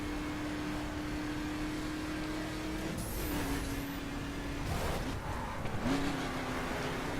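A Chevrolet Silverado pickup built to circuit spec in The Crew game, its engine droning steadily at a moderate level with shifts in pitch and a couple of rising whines, no talk.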